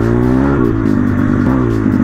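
A small engine of an MRF 140 RC car whines and revs steadily on ice and snow, loud and close, its pitch wavering up and down for about two seconds with no talking.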